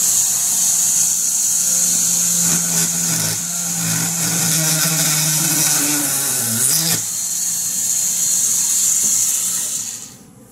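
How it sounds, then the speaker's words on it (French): A rotary tool drilling through wood, its steady high motor whine running throughout with a deeper load tone as the bit bites in, then winding down at the end, with no talk. "Donc, ça a percé. Donc, on peut percer du bois."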